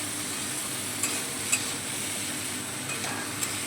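Potatoes sautéing in oil for a vegetarian kosha aloo dum hiss in a steady sizzle, with a few soft scrapes and taps of a spatula on the pan; no one speaks.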